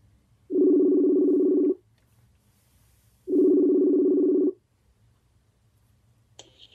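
A telephone ringback tone plays during a callback: two long, steady buzzing rings, each a bit over a second, separated by a quiet pause, with no voices.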